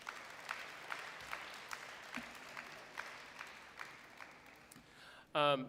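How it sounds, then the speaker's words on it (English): A modest crowd at a middle school awards day gives scattered, sparse applause for award recipients, fairly quiet and steady, ending with a brief louder burst that sounds like a voice. "Let's give them a round of applause for that."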